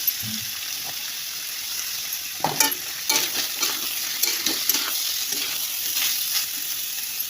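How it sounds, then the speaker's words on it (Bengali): Boneless meat stir-fried with turmeric in a pan, a steady frying sizzle broken by repeated scraping stirs in the middle and latter part, close and moderately loud, with no talking. "তারপরে আমি হলুদ দিয়ে দেবো দিয়ে সবটা একটু ভাজা ভাজা করে নেবো"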